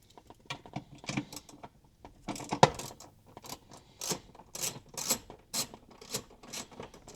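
Cover screws come off over the ECU of an MK4 Supra, heard as a run of small metallic clicks, scrapes and rattles, close by and irregular, with short bursts of tool and screw contact.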